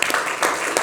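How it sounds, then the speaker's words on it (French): A brief burst of applause from a studio audience on a French talk show, dense clapping lasting under a second with no voices over it. "on peut l'applaudir aussi"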